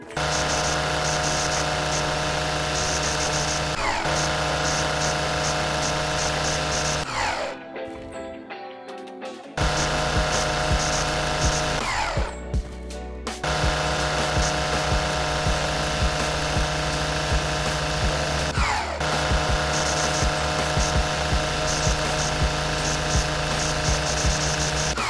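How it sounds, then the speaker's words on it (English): Lawn mower engine droning continuously while mowing grass in Lawn Mowing Simulator, a loud steady motor hum with two brief dropouts where the sound cuts and shifts, no speech. "We are mowing the grass."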